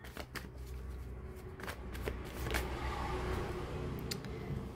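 Tarot cards are shuffled close up in a run of quick papery riffles and soft slaps, with irregular sharp flicks standing out against a low background hum.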